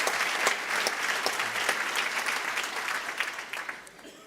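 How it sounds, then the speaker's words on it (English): An audience at an agricultural awards gala gives a round of lively applause. The clapping is full and steady with a crowd murmur under it, then thins slightly toward the end. "Give him another round of applause"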